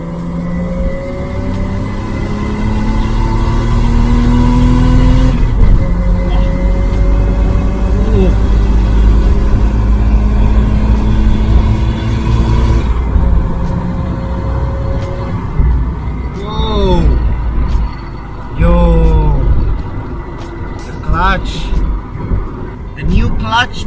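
A Jeep Cherokee XJ with a swapped 1JZ-GTE engine, W58 gearbox and new clutch drives along, its engine droning close and loud and rising in pitch as it pulls, with a brief lift between gears.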